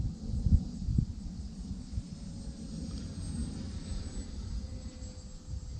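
A Tower Hobbies Cherokee electric RC airplane flies in gusty wind, its motor a faint, steady distant drone under a low, rumbling wind noise, with no talking.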